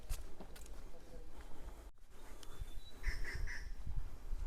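Birds call along a quiet forest road toward the Rabdentse ruins near Pelling, West Sikkim: a few faint, high, short chirps, with three quick notes near the end, beneath a person talking and footsteps.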